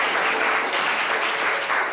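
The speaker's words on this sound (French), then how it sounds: "Applaudissez très fort." Live event crowd gives dense, continuous applause, loud and even throughout with no break.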